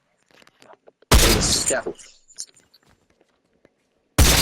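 Gunfire in a video game: two loud, sharp bursts of shooting, the first lasting nearly a second, the second cutting in at the end, with quiet whispered speech and faint steps between them.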